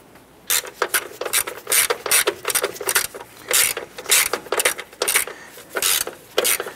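A bolt dropping and rattling inside a battery hold-down on a 1993-1997 Ford Ranger, a series of close, bright metallic clinks and jangles in repeated short bursts.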